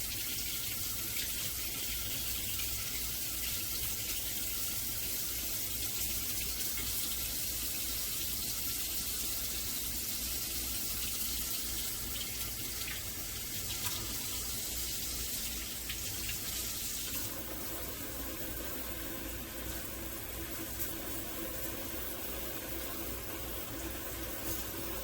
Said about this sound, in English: Whatever left on, I rinse it off.